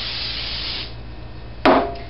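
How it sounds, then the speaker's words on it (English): A hiss of cooking spray fades out, then a short second spray bursts loudly near the end, with a faint rubbing sound beneath. "Spray one more time for good measure."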